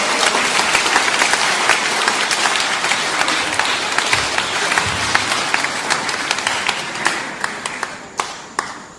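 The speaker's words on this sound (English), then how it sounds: "Another round of applause." A conference audience at a leadership summit gives a sustained round of loud applause that thins toward the end into scattered, distinct claps.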